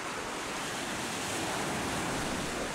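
Sea surf rolling onto Ngapali Beach in Myanmar, a steady, even wash of breaking waves that fills the whole stretch with broadband hiss, no voices and no pauses.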